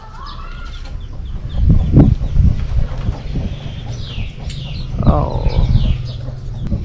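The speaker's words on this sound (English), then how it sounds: "Hey, little chickens." Chickens and roosters cluck and flutter in a leafy yard beside an apartment in Hoi An, Vietnam, in short, scattered bursts over steady outdoor background noise, with a brief spoken exclamation.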